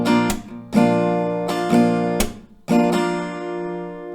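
Acoustic guitar strummed in the pattern from a song: down, down, up, clap, down, clap, down, up, with sharp percussive hits breaking up ringing chords, played close and alone.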